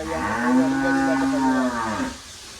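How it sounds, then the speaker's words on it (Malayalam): A Jersey dairy cow gives a single drawn-out, resonant moo lasting about two seconds, close and clear, then trails off into quiet. "ഫാമിലേക്ക് പറ്റിയ പശുക്കളാണല്ലേ ഇതൊക്കെ"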